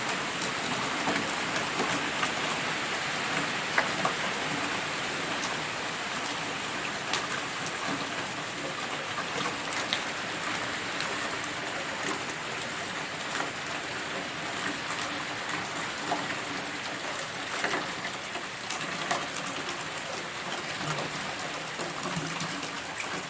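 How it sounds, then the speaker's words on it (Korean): Heavy rain pours steadily at a countryside house, a dense continuous hiss with water drumming and trickling on surfaces, no talk over it. "비 많이 오네."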